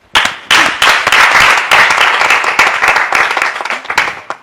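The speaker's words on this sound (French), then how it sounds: "Et c'est encore à applaudir." Church congregation at a women's week service breaks into loud, close applause, a dense burst of many clapping hands starting abruptly and holding steady before slowly thinning toward the end.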